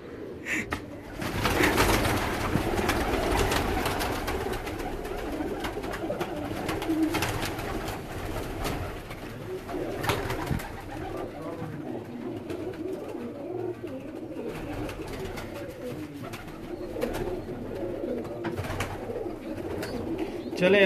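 Pigeons cooing at a home loft, soft repeated low coos from several birds that continue steadily, with faint background noise throughout.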